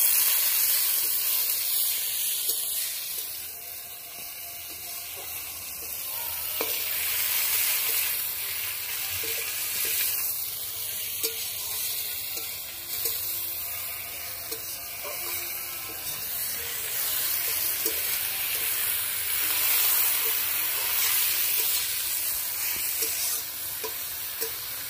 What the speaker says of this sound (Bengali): সব কিছু দিয়ে ভালো করে নেড়ে নেব।